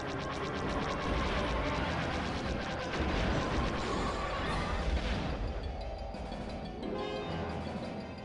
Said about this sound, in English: What are you guys shooting at? Oh. I hear them. Bombers.